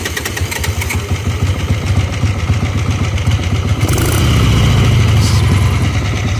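A Harley Ironhead Sportster motorcycle engine runs with a loud, steady rapid idle beat that swells into a fuller, deeper roar partway through, close by with no talking.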